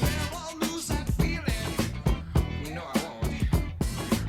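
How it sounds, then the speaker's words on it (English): Punchy drums with a sung vocal line over them, no other instruments, steady rhythmic hits throughout. "It's just going to be the drums and his singing."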